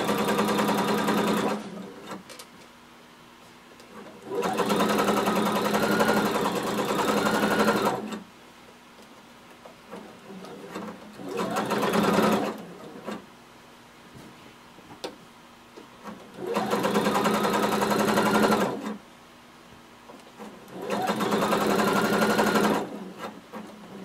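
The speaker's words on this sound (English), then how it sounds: "starting at the top, we're just going to sew a basting stitch. We're still using a really long stitch." A sewing machine running a long basting stitch through garment fabric, with several steady motor-driven whirring runs of a few seconds each, separated by pauses, close and loud.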